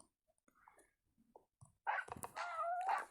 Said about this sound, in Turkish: Bu, Beyza Pink'in köpeği ya